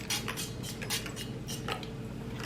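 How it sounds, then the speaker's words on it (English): Metal cake pan being oiled before the brown sugar butter mixture goes in for an apple upside-down cake, with light scattered clinks and scrapes of a utensil against the pan over a steady background hum. "I want to oil the pan a little bit"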